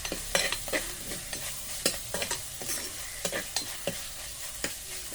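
Curry leaves frying in hot oil for a sardine curry, a steady close sizzle with repeated scraping stirs and sharp crackles.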